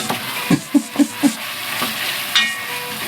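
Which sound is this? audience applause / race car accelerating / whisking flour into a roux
whisking flour into a roux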